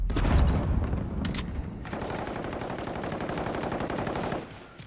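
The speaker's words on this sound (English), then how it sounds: "He's shooting at me through the building?" Sustained automatic gunfire from the game Modern Warfare, loud and rapid, with dense repeated shots running for several seconds before tapering off, with no talking over it.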